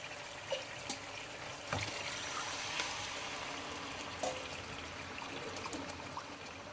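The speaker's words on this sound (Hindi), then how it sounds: "मैं उसके अंदर यखनी डालूंगी तकरीबन 3 कप" Mutton yakhni broth pours steadily into a pot of rice for pulao, a continuous close trickling and splashing stream with a few soft knocks, no talking over it.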